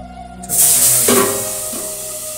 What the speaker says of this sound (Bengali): এবার পাবদা মাছ ভাজতেই তো আমার ভয় লাগছে গো।